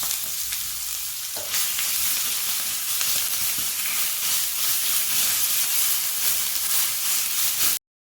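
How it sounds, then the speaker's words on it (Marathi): Cumin, mustard seeds, curry leaves and a garlic-ginger-chili paste fry loudly in hot oil for a potato kharda, a dense continuous sizzle and crackle close up that cuts off abruptly at the end. "जिरं मोहरी आपली तडतडत आहे कडीपत्ता घातलेला आहे हे लसूण आलं मिरची पेस्ट घालत आहे"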